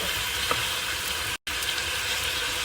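Meat browning in a pot with onion, garlic and olive oil, a steady close sizzle and fry that breaks off for a split second before resuming.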